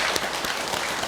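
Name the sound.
audience applause at a Buddhist dharma service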